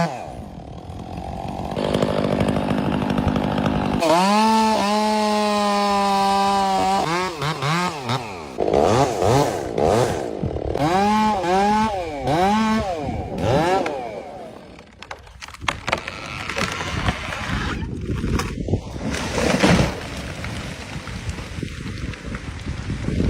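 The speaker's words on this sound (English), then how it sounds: "holding a chainsaw firmly, she starts the machine. The sharp blade tears through the charred bark" A chainsaw revs and cuts into charred tree bark outdoors, the engine climbing and dropping in pitch as the chain bites, loud and close with wind buffeting the microphone.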